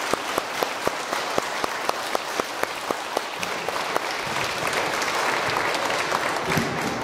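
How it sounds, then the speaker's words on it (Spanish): Congregation at a Catholic wedding mass for a double wedding in a church bursts into sustained applause, steady rhythmic clapping from many hands that swells and thickens toward the end, with no talking over it. "Démosle un fuerte aplauso como signo de nuestra alegría."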